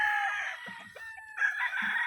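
Roosters and stags on a cockerel farm crow, one drawn-out crow close by, with fainter overlapping calls from other fowl.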